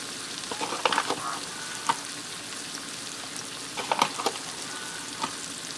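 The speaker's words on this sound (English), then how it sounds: "I'm going to allow this butter to melt down in there" Butter and flour sizzling together in a pan as a roux for pork chop gravy, a soft, steady frying hiss with scattered crackles and light stirring scrapes, close but quiet, and no one speaking.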